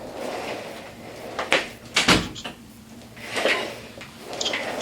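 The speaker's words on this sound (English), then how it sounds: "I'm going to shut the door." An interior door being shut in a small room during a manicure tool sharpening class, heard as a couple of sharp knocks and a thud over faint room noise.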